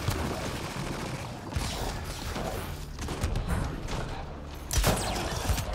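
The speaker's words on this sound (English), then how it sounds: "What's shooting me?" Enemy gunfire aimed at the player in Mass Effect Andromeda, scattered shots and mechanical clatter mixed into a dense combat soundscape, with a sharper burst near the end.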